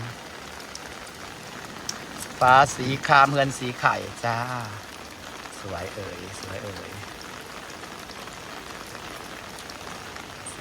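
Steady rain patters in the background throughout, with a woman singing over it for a few seconds before the steady downpour continues alone.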